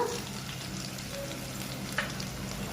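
Small onions sauté in a pan for a fish kulambu, a steady moderate sizzle with faint stirring scrapes and one brief clink, no talk.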